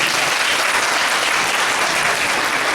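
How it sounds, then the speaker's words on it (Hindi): A roomful of people clapping at a school teachers' program, loud, dense and continuous applause with no pause. "तालियां तो बजाओ ना।"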